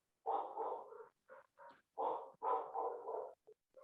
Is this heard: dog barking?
yes